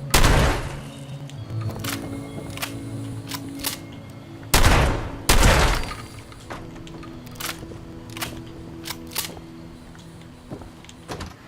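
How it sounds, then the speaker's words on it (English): A shotgun firing in Fallout 76, with a few loud, close blasts spread across the stretch, one heavy pair near the middle, over a steady droning game music bed. "Shotgun, come on."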